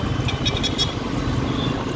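A motorcycle ridden at night gives a steady, loud engine drone with wind rush, continuous and close, with no talking.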